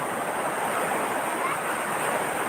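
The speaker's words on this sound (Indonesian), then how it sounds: "cuma ombaknya cukup besar" Large ocean waves at Sumedang beach on the south coast make a steady, broad hiss and roar of surf, continuous and fairly soft with no distinct breaks.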